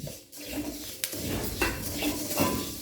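Coriander seeds tipped into a pan already holding fenugreek and dry-roasted for a sukka spice powder, with close, steady scraping, rattling and clinking of a spoon stirring against the metal pan. No one speaks.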